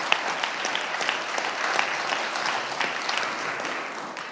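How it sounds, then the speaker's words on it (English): Brief round of applause in a senate chamber during floor proceedings, steady dense clapping from a crowd lasting a few seconds, moderately loud and fairly close. "Just give them a brief round of applause before we applaud the other folks."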